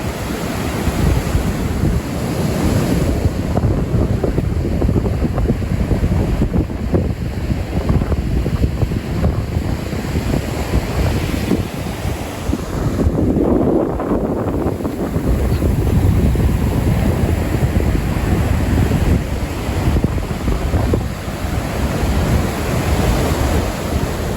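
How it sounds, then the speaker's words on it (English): Big surf pounding the shore during Tropical Storm Fred in Destin, Florida, with waves around 8 to 10 feet; a continuous loud roar of breaking water mixed with heavy wind buffeting the microphone, no talking. "Those waves are probably 8 to 10 feet, maybe, at the highest."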